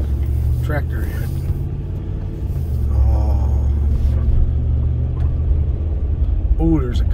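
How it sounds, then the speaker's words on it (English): A car on a rural country road heard as a steady engine and road rumble, passing close, with a person talking over it. "Oh, there's a car too."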